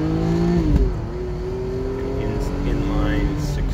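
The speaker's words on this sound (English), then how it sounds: "Give it a little gentle drive and give it a little kick down and run through the gears." A 1991 red Mercedes-Benz 300SL with an inline six-cylinder engine accelerates through the gears, its steady engine drone rising in pitch, dropping at a shift, then climbing again, heard close from inside the car.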